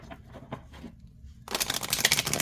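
A deck of tarot cards is handled softly at first, then a sudden, loud burst of rapid riffle shuffling fills the final second, crisp and close.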